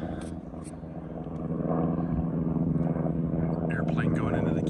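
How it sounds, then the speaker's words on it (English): A propeller airplane flying in to land at Kenai Airport drones steadily overhead, its hum rising and staying loud while someone talks over it outdoors. "Airplane going into the Kenai Airport to land."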